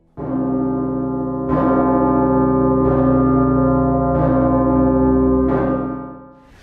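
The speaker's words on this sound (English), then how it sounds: "It only rings on declared national and major holidays with its low, long chime, a striking and famous sound in the gorgeous city of Bucharest." A huge bell in Bucharest rung on national holidays sounds a deep, low, long chime, struck repeatedly at steady intervals of about two seconds, loud and sustained, each ring droning on without any talk.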